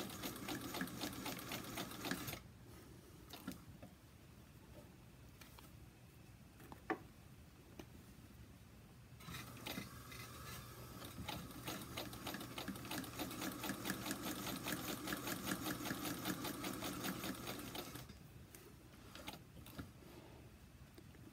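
A sewing machine stitches fabric for a bowl cozy, running in steady rapid bursts with brief pauses between seams, close and alone.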